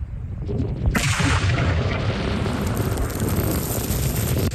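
A petal landmine carrying about 100 grams of explosive goes off under a test boot at a proving ground. A sharp blast hits at once and becomes a loud, sustained roar that fills the rest of the clip.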